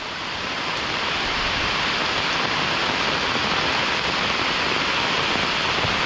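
Swollen streamside channel beside farm fields rushes with heavy runoff after a downpour, a loud, steady broadband roar of churning water with no break and nobody speaking.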